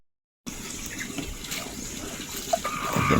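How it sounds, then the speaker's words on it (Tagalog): Water runs steadily outdoors at a rural garden plot, a continuous faint splashing flow that starts after a brief silence and grows slightly louder toward the end. "Yan ang tubig guys."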